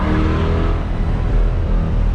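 Chevrolet C8 Corvette with a custom aftermarket exhaust revving hard and steadily, a loud, close, continuous engine roar with no one speaking.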